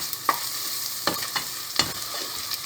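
Grated garlic stirred in a hot pan for ezogelin soup: a few scraping spoon strokes over a steady, gentle sizzle, close and without talk.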